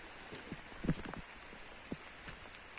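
Rain falling on a wet countryside vegetable garden at a dacha, a faint steady hiss with scattered soft drips and taps, no voices.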